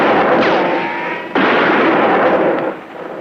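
Loud gunfire rings out in a western standoff, a heavy blast with a long rolling echo followed by a second sharp shot partway through, both reverberating across open land with no talk.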